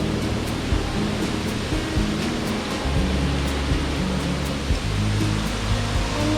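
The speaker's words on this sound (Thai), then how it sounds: "นี่น้ำตกด้วย" A waterfall pours near a walking path at a resort with lodgings and a restaurant, giving a loud, steady rushing roar with occasional faint knocks and no speech.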